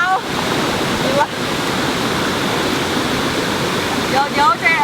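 The Yeh Ho waterfall in Bali roars as a loud, steady rush of falling water that is close and continuous, with a few faint high chirps near the start and end.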